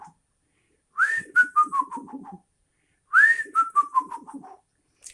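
A person whistles an imitation of an eerie whistle heard far off in the distance: two phrases, each a rising swoop followed by a run of falling, fading notes, alone in silence with a pause between them.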